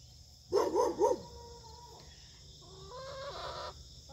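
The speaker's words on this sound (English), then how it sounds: "I love these two chickens, you guys." Faverolles chickens cluck nearby in a quick burst of three loud calls, then softer drawn-out clucks and murmurs follow against a quiet outdoor background.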